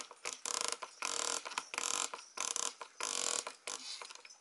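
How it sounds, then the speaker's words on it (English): A hand-held spray bottle misting the substrate of an electric blue Chilobrachys tarantula enclosure, giving several sharp, close hissing bursts in an uneven rhythm with short gaps. "let's give that area a bit of a spray"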